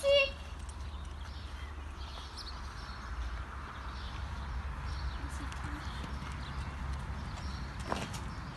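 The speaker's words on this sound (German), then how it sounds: "dann muss ich mit dem Pferd hinterher laufen" Steady hoofbeats of a horse walking on open ground outdoors, with faint birds and scattered voices in the background.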